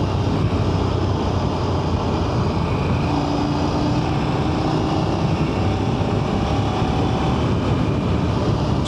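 Parallel-twin engine of a 2024 KTM 990 Duke motorcycle under way on the road, a steady, loud broadband drone with wind rush that holds evenly throughout, with no talking.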